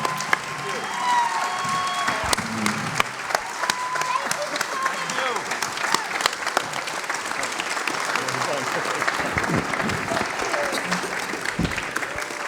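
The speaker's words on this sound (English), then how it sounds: "let's give a big round of applause for Barry, Nell, and Patricia." An audience at a convention panel claps warmly, a sustained crowd of hands with sharper individual claps standing out near the front and faint voices underneath.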